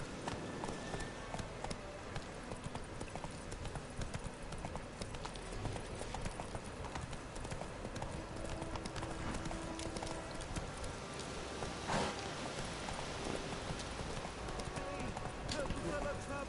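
In The Witcher video game, a horse's hooves clip-clop at a steady trot throughout, heard under ongoing talk from a player and game characters.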